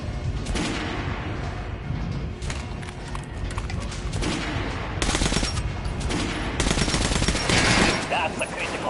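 Rapid video-game gunfire at an armored training dummy, with dense, continuous bursts of shots and heavier thumping volleys that swell louder toward the end.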